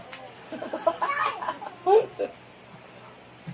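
Soft chicken clucks come in short bursts amid background chatter, with a louder pair of clucks near the middle.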